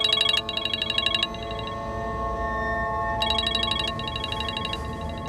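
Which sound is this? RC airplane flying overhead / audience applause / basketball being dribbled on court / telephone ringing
telephone ringing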